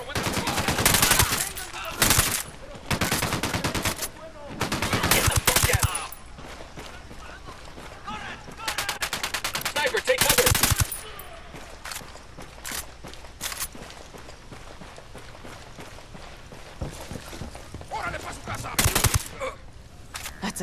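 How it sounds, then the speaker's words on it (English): Gunfire in the Ghost Recon Wildlands shooter: repeated loud bursts of automatic fire separated by quieter stretches of footsteps and movement, with a voice heard at times. "I'm opening fire on these shitheads."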